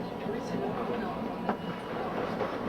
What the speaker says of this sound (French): Nous nous rendons au parc mémorial de la paix par le tramway, en traversant une partie de cette ville.